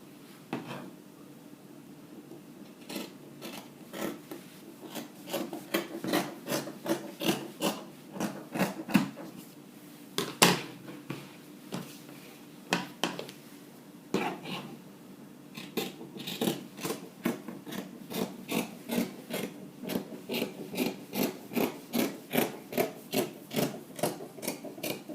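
Scissors cutting fabric for a sewing top, with rapid, close, crisp snipping strokes in steady bursts and brief pauses between runs of cuts.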